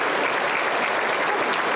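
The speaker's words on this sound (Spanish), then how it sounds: "Aplauso para el Señor Jesús." A church congregation claps steadily for Jesus during a healing and deliverance service: a dense, close, continuous burst of applause with no voices.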